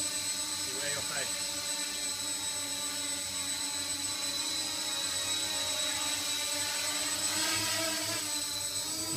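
A Scarab QuadOcta multirotor drone flies on its maiden outing, its steady whining rotor drone with tonal harmonics holding throughout, loud and close, while people talk nearby.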